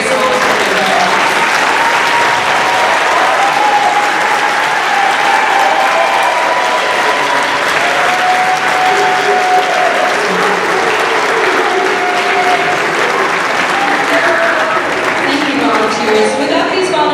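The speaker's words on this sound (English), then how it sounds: "give you a round of applause as a very small group" A large audience applauds volunteers at an All-SMP concert and celebration, loud sustained clapping with some cheering that fills the whole span at a steady level, close and continuous.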